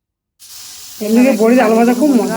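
Potatoes fry in a pan with turmeric and vadi, giving a steady sizzling hiss that starts abruptly and continues close by, with a voice talking over it for the second half.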